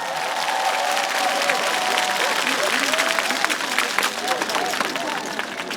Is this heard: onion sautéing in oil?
no